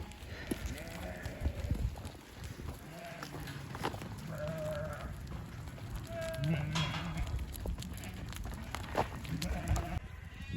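Sheep on a farm readying for spring lambing bleat several times, in short scattered calls near and far, over rustling movement and low background voices.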